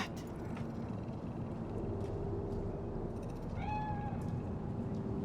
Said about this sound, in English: There's a cat.